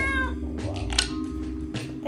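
A cat meows during the OSMO Detective Agency game as part of a stolen-cat mystery, with a few drawn-out meows over background music and game sounds.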